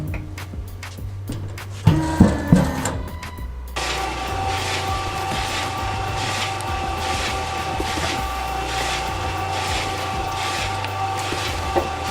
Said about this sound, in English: this is a hydraulic divider. We're gonna put a bulk dough in here. It's gonna cut it into 20 pieces.